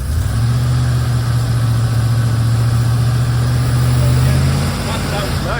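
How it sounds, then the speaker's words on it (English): A Range Rover P38 engine idles steadily, a loud, close, low, even drone that eases slightly near the end, with no talking. "That sounds nice, that's a nice sounding engine."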